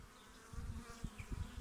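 Honey bees hum low and steady around a hive, a faint continuous buzz with a few soft thumps and rustles close by.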